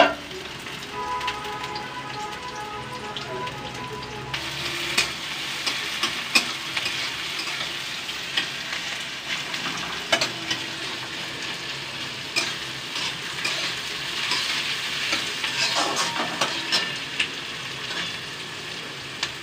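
Onions hiss and sizzle as they drop into hot oil in a heated pan, a steady crackling fry that swells after a quieter start and continues with scattered stirring scrapes.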